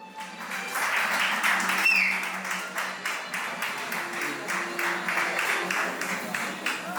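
An audience claps steadily in a hall, a dense patter of many hands that swells early then holds, with a voice speaking faintly over it.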